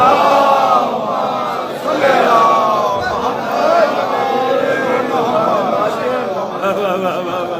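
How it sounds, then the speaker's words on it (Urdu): A large congregation at an Eid Ghadir gathering in Birmingham loudly recites salawat together, a dense, surging chorus of many voices rising and falling in unison, filling the hall for several seconds. "بلند صلوات پڑھ دیں محمد والے محمد پر"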